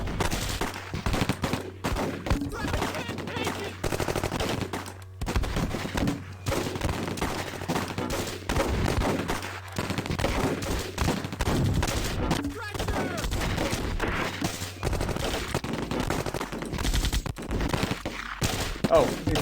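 Dense machine gun fire in the war strategy game Close Combat, with loud overlapping bursts and rattling volleys that run almost continuously and mingle with other battle noise.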